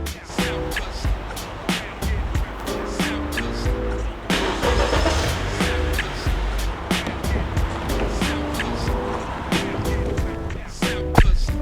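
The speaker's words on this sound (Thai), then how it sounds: "เราสามารถจะสตาร์ทรถจากภายนอกได้เลย" A Honda Accord 2.4 (2017) engine, started by remote start, turns over and settles into a steady idle, with rumbling low noise and some clicks and knocks nearby; no one speaks.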